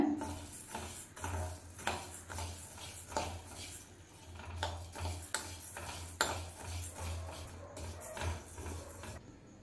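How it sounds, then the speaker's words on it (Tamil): Urad dal roasts in a kadai over a low flame for idli podi, with quiet irregular clinks and scrapes of a spatula against the pan and a faint low hum under them. "கடாய் சூடு பண்ணி 1 கப்பு உளுந்து சேர்த்துக்கோங்க. லோ ஃப்ளேமில் வச்சு வறுத்துக்கோங்க"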